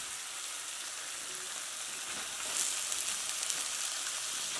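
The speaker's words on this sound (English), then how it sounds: "I'm gonna throw in the kielbasa." Kielbasa sizzles in a frying pan with a dense, hissing crackle that holds steady and close, growing slightly louder and pops more midway through.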